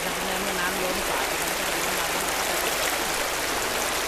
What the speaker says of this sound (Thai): ได้เสียงขนาดเนี้ยมันคงเสียงของน้ำตกจริงๆ